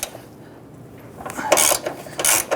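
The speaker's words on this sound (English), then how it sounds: "We use our 13mm socket and extension." A 13mm socket ratchet on an extension loosening grille bolts on a 1997–2006 Jeep Wrangler, giving a few short ratcheting clicks in quick bursts near the end, close and moderately quiet.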